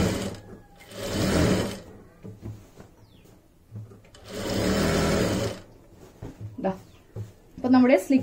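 An electric sewing machine stitches the slit of a churidar in two fast, whirring bursts of about a second each, close up, with a voice talking in the pauses between and after them.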